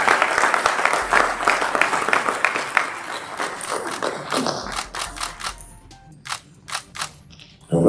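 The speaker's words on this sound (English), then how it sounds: "A round of applause for her." An audience at a CBN beneficiary recognition event claps as a burst of applause that thins into scattered individual claps, moderately close, with no talk over it.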